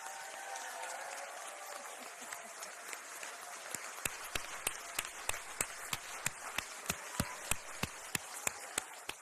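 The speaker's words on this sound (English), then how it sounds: "Now we can do a big round of applause." Audience at a city council meeting clapping, starting as a faint murmur and building into a steady run of distinct, fairly loud claps from a modest crowd in the hall.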